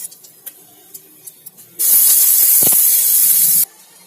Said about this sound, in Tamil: நெய்யிலே அரிசி பருப்பு எல்லாம் கிளறும் போது